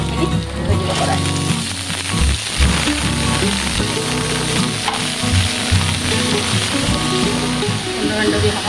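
Washed papaya peel frying in a wok on a gas stove gives a loud, continuous sizzle and bubbling with stirring scrapes, while a person talks over it.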